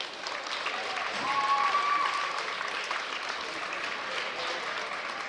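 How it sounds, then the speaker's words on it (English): A gym crowd at a varsity boys basketball third-place game applauds both teams, sustained, many-handed clapping at a steady level with a brief whistle-like tone mixed in. "Let's give both teams a good round of applause."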